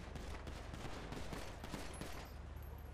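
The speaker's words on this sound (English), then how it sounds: "They're shooting already, bro." Gunfire in the GTA 5 video game on a roleplay server, a continuous spray of rapid automatic shots at a moderate distance, fairly quiet and steady throughout.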